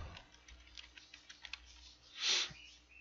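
Keys tap on a computer keyboard during coding, a quick series of soft, close clicks ending in a louder keystroke, with no one speaking.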